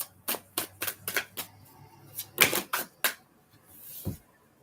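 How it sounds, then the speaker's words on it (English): Tarot cards being shuffled by hand produce a series of sharp, close snapping clicks in an uneven rhythm, followed by a softer brushing sound at the end. "And let's shuffle."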